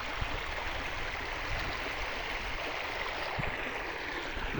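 A small river stream flows through farmland with a continuous, even rush of water, steady and fairly soft throughout with no talking.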